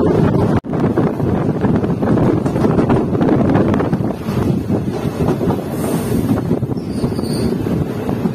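The Punalur Madurai Express rolls along on its run near Kottarakkara, a loud, continuous rumble of wheels and carriages with heavy wind buffeting the microphone and a brief dropout near the start.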